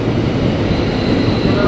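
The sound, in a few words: KRL commuter train bound for Cikarang at Bekasi station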